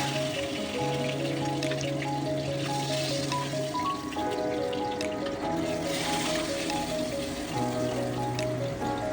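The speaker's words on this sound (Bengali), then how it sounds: "এবার বাকি মাছগুলো ভেজে ভেজে আমি কিন্তু তুলে দিচ্ছি।" Bhetki fish pieces fry in hot oil in a wok, giving a continuous loud crackling sizzle over a steady low tonal hum.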